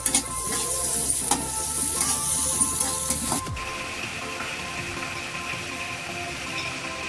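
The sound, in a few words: onion with red bedgi chili frying and being stirred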